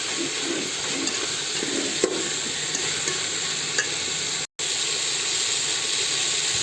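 Groundnuts and gurugaku greens frying in a pan, a steady broadband sizzle with occasional stirring clinks, close and continuous with a brief dropout near the end.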